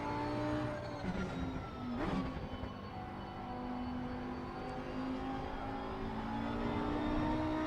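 A race car engine at Monza whines continuously at a steady high pitch, with brief gear-shift dips and other cars' engines layered faintly underneath.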